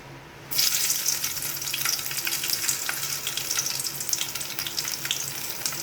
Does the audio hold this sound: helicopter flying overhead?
no